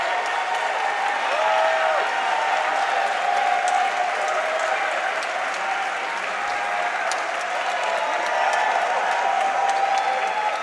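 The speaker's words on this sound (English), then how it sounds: "Standing ovation indeed from the crowd as they welcome Ad Finem." A large crowd gives a standing ovation at a Dota 2 esports tournament, The Boston Major 2016, with sustained, dense applause and scattered cheers filling the arena loudly and steadily throughout.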